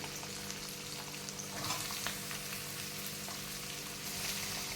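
Chopped onion and ginger sautéing in a pan for samba wheat upma, with a steady close sizzle and frying crackle and faint stirring scrapes, no talk.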